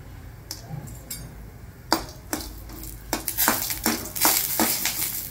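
Whole star anise dry-roasting in a pan over a medium flame, with close, sharp clicks and scraping knocks as the pods are stirred, growing busier and louder toward the end, with no talking.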